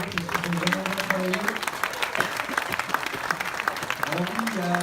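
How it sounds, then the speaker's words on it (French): An audience claps for a film crew, a steady spread of many hands lasting throughout, with a voice speaking over the applause at the start and again near the end. "On peut les applaudir parce qu'ils ont vraiment bien travaillé."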